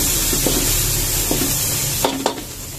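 Onion and garlic sizzle in olive oil in a pan, a steady broadband frying hiss running throughout, broken by a few short scrapes and clinks of stirring, with no talk.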